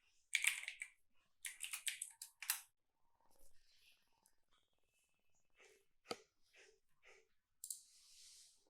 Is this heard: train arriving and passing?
no